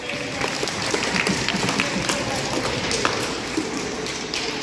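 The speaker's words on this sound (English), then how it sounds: "Round of applause for playing, everybody." An audience at a silly safari animal show breaks into dense, continuous applause, a broad wash of many hands clapping at once that stays even and fairly loud throughout.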